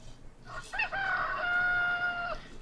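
A rooster crows once, a loud, clear cock-a-doodle-doo rising and holding before cutting off, close by.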